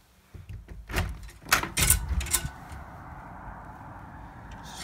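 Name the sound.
door being opened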